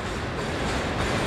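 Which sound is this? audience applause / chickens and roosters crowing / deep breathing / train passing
train passing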